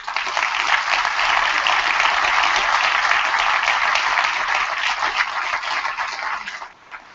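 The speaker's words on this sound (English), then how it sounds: "Round of applause, please." Applause from an audience at a Wings for Life World Run event, a dense steady clapping that holds loud for several seconds before fading out at the end.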